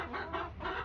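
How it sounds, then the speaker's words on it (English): A rooster clucking nearby in a backyard chicken flock, a short run of low throaty clucks heard up close and fairly faint. "That rooster is so mean"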